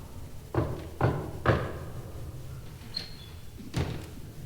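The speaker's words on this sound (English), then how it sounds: "Don't open the door unless you hear this exact knocking." Knocking on a door, a few separate hollow thuds spaced out with a pause before a final knock, fairly close in a quiet room.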